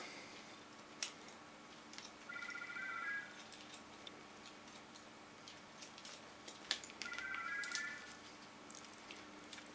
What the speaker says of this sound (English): And now I have to get the phone.